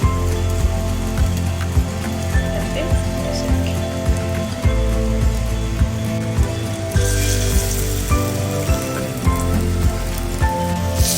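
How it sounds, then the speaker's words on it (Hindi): Beetroot tikki patties frying in hot oil in a pan, a steady crackling sizzle with small popping bursts, loud and close, running throughout with no talk. "तेल अभी गरम हो गया इसमें का। अब इसमें हम ये टिक्की जो है इसको डालेंगे"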